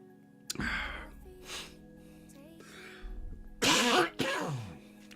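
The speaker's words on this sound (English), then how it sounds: "I was just coughing my head off" A few throaty coughs and throat clearing, spaced out then ending in two loud harsh bursts close by, with a faint steady hum underneath.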